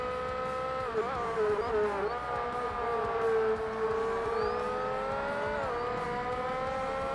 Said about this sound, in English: I think the Toyota GT1 is the best car I've driven.